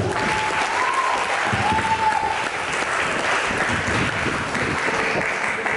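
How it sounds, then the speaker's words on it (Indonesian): Audience applause for a student team after their presentation at a school creative-writing competition in Pasuruan, steady full clapping from a room-sized crowd holding an even level for several seconds, with a faint tone running briefly beneath. "kita berikan aplaus untuk tim 1"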